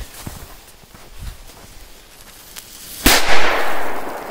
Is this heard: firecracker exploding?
yes